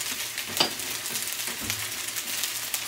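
Food fries in a pan on a home stove, with steady soft sizzling and occasional scrapes and clinks as it is stirred, nobody speaking.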